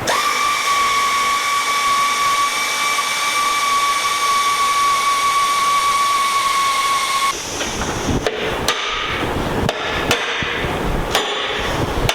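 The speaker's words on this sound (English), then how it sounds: "we took them off with an air ratchet" Air ratchet taking old carbide runners off a snowmobile: a steady high whine with strong harmonics for about seven seconds, then a break into several short bursts of rattling, hissing tool noise.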